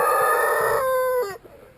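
A Jersey Giant rooster crows loud and close in a winter chicken run, one long cock-a-doodle-doo that falls away near the end, with no other sound around it.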